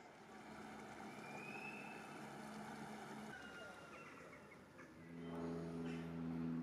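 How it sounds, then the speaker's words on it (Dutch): An electric-powered Stiljoy catamaran cruising on calm water, a soft steady hum and water wash, fairly faint, with a brief swell of motor tone near the end. "Ik ben aan boord van een Stiljoy, elektrisch aangedreven."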